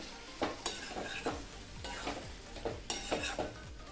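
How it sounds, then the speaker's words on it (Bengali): Mustard paste, ground from white and black mustard seeds and mixed with water, is stirred into potatoes and okra frying in a pan: a spoon scrapes in repeated strokes over a soft, steady sizzle, close and fairly quiet, with no talking. "সর্ষে বাটা আলু ভিন্ডির সাথে মিশিয়ে নেব।"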